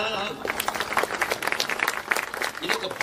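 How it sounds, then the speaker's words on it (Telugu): An audience breaks into dense, continuous applause, many hands clapping at once in a loud, sustained burst. "ఆనందించి చప్పట్లు కొట్టారు లేదా"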